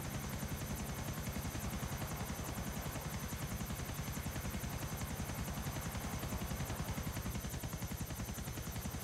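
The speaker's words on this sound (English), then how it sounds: "I crashed into a cop chopper." A police helicopter rotor in GTA 4, a rapid, even thudding beat with a constant engine drone, loud and close throughout, no speech.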